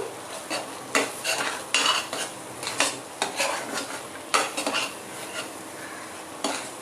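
A spoon clinks and scrapes against a pot while stirring a soya bean mixture with Amul milk powder, irregular metallic taps and scrapes repeating close by over a soft background.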